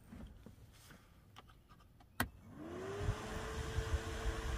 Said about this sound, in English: I got this fan here.